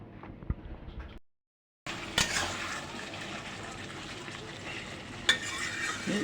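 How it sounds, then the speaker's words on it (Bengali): Broad beans stir-fry in spiced oil in a pan for a rohu fish curry, sizzling steadily with sharp clinks of a spatula against the pan and a brief break in the sound early on. "এখন সিমগুলি দিয়ে দেবো সিমগুলি আমি ভালো করে একটু কষাই নেব"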